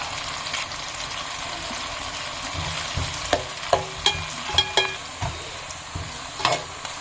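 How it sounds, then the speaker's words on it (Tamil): Onions sautéing in a pan for a spicy Tamil village-style mutton kulambu, a continuous close sizzle broken by a run of sharp scraping stirs and spoon taps in the second half, with no talk. "வெங்காயம் நல்லா வதங்கிடுச்சு"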